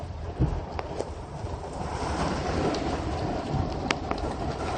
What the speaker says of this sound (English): You can see the rain cooling down here.